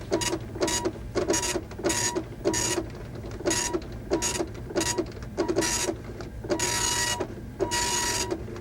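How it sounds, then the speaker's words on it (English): A 1990 computer printer rattles out a message record in repeated mechanical bursts. Each bursting print pass is separated by brief carriage pauses, steady and close, with no talking. "The printer can make a permanent record."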